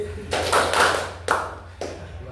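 A group stands and does a kindergarten-style rhythmic clap as an icebreaker: a few loud, separated claps in a short pattern, close and roomy, with chanting voices blended in.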